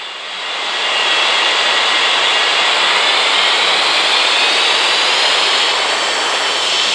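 Jet engines of a Qatar airliner spooling up for takeoff at an airport, a loud, steady broadband roar that swells in over the first second and then holds at full volume, with no talk.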